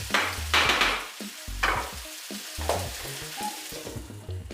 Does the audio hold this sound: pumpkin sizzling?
yes